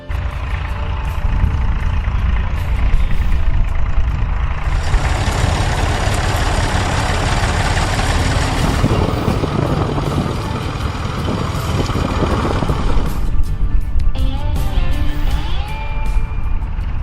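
A Massey Ferguson 135 tractor engine runs with a continuous heavy rumble that grows louder and rougher through the middle, then eases back, with no talk.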